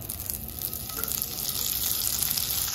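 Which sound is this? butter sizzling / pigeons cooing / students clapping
butter sizzling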